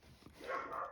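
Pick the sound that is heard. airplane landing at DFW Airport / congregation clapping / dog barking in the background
dog barking in the background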